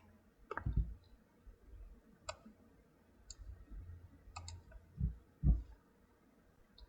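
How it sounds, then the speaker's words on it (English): Computer mouse clicks in design software, a few sharp isolated taps spread across several seconds over a low background rumble. "So you click on OK."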